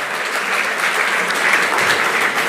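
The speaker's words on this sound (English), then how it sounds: "let's give another warm round of applause, please, to CJ Emeritus Professor Willy Mutunga" A large audience applauds Retired Chief Justice Emeritus Professor Willy Mutunga at a stage event, a dense, steady wash of clapping that holds at full strength throughout, with no voices over it.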